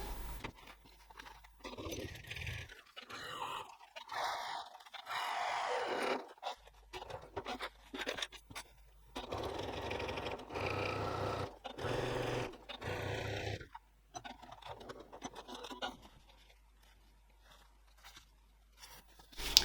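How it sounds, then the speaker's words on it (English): A sewing machine topstitches a zipper tote in repeated bursts of fast whirring stitching of a few seconds each, separated by short pauses, close and moderately quiet. "I'm going to top stitch 3mm or 1/8 of an inch from the edge"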